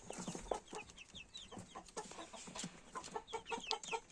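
Small home-raised chicks cheep in a yard beside a grapevine, a steady stream of thin, high rising peeps from several birds close by, with a few louder clucks mixed in and no talking.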